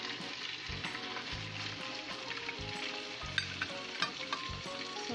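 Chicken sisig pieces frying in a hot pan, a steady loud sizzle with bursts of crackle and occasional stirring scrapes, continuous throughout with no voices.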